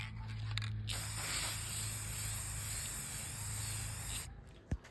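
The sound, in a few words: spray painting an ornament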